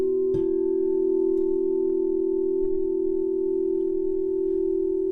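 Two singing bowls sound together after a single strike, a steady sustained hum whose close tones create a slow, rhythmic binaural-beat flutter that lingers evenly throughout, with no talking.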